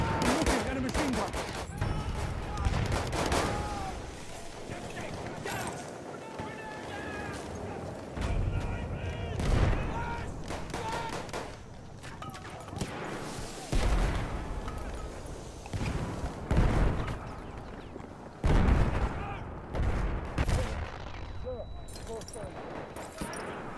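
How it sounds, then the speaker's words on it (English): Machine gun fire and scattered gunshots in a Battlefield-style video game during a rush match, with repeated bursts and volleys throughout and players talking over the shooting. "Look at a machine gun!"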